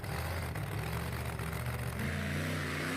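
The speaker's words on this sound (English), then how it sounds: "a blown alcohol hot rod built on a military tank chassis" A supercharged alcohol-fueled hot rod engine mounted on a military tank chassis runs loud and close, a throaty, lumpy rumble with steady revving and mechanical whir throughout.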